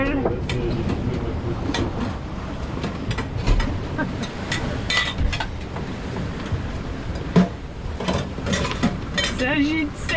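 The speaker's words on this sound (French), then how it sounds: "Une condition extrême pour faire la vaisselle." Dishes, pots and cutlery clatter and clink while being washed aboard a sailboat rocking hard at sea on a transatlantic crossing, with irregular knocks and scrapes over a constant background of boat and water noise.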